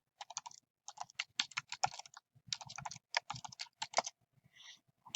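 Bursts of rapid keystrokes on a computer keyboard, crisp clicky taps in quick clusters separated by short pauses, close and fairly quiet with no talking.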